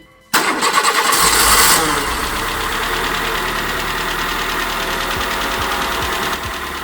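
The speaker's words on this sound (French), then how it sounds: "Moment de vérité. Ok, donc on a fait tout ce qu'il fallait. On va pouvoir démarrer." A Peugeot/Citroën TU petrol engine cranks and catches after an oil change and full service, flaring loudly for a moment before settling into a steady, even idle, heard close and with no talk.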